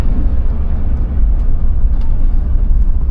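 Constant low rumbling fan noise inside a vehicle during a snowy camping trip, a dense, steady drone close by with no speech over it.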